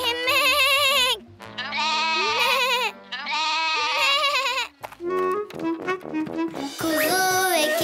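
Cartoon lamb and goat bleat in a series of loud, wavering cries, several calls in close succession with brief pauses between them, clear and close with no talking.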